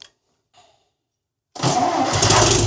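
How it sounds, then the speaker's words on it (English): A farm tractor engine cranks and catches on a cold day after a brief quiet pause, then settles into a loud, rough running rumble close by for the final second. "as soon as I turn one on, start driving around the farm"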